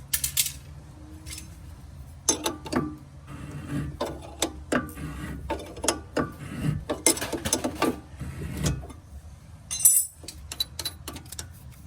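Coilover height adjuster on a Porsche Boxster 986 being wound by hand, a run of sharp close metallic clicks and ratcheting taps in irregular bursts with short pauses, no talking.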